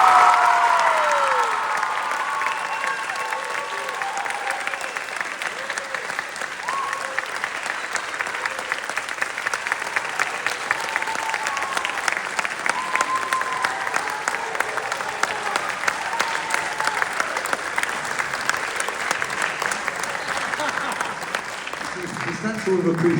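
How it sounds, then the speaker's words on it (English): A large outdoor crowd applauds the marching band director at a London parade, with sustained, dense clapping and scattered cheers that hold steady throughout. "give your band director a round of applause."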